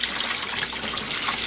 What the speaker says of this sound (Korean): 그냥 이대로 겉만 씻어 놓겠습니다